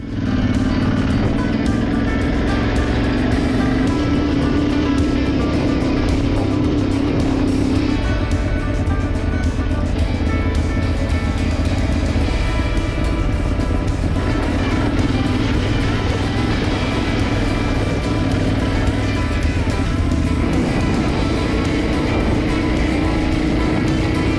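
An Aprilia Tuareg motorcycle rides damp dirt trails on the Vercingétorix 2025 rally, its engine droning loud and close throughout, pitch rising and falling with throttle and gear changes.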